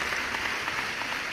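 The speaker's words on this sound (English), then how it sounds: "I'm going to clap anyway." Studio audience applause at a live Friday-night game show, a dense and steady wash of many hands clapping at a moderate level with no voices.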